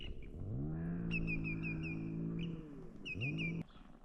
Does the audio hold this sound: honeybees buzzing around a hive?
no